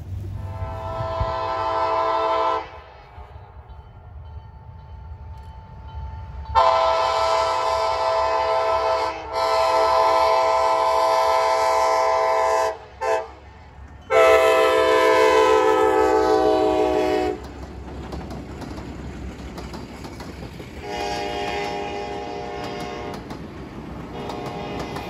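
A loud Kansas City Southern Railroad train horn blares in long repeated blasts over the rumble and clatter of a passing train, ending with a few softer horn sounds.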